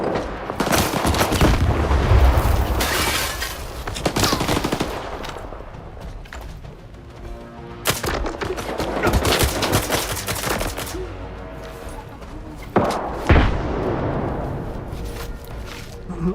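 Loud, dense gunfire fills a STALKER 2 firefight, with sustained automatic bursts and scattered single shots rattling continuously and some heavier impacts, while a voice speaks now and then underneath.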